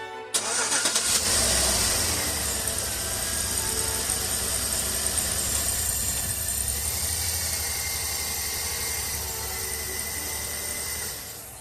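A 2012 Chevy Tahoe engine cranks and catches, then settles into a steady, close idle with a low hum and a faint high whine, continuing without talk.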